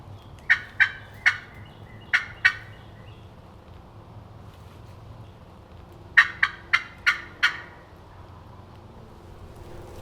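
A wild turkey gobbles in two bursts, first five sharp calls then another quick run of five or six, carrying clearly over a quiet outdoor background with no talk.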